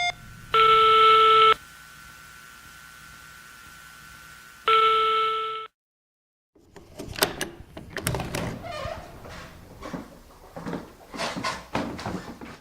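Telephone tones sound as someone calls a cousin: two loud, steady beeps with a pause between them, then a moment of silence, followed by a clattering rustle of handling noise.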